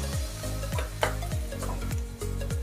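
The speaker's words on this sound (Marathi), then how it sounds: "कांदा लालसर होईपर्यंत परतून घ्यायचा आहे।" Onions being stirred and sautéed in a pan for an okra (bhindi) stir-fry with cumin and green chilies, a steady sizzle broken by about eight regular scraping strokes of a spatula against the pan, close and fairly loud, with no talking.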